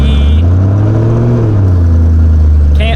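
A BMW M3 engine hums steadily at low revs with a slight rise and fall in pitch as the car is put in reverse, loud and close for the whole stretch, with no talk over it.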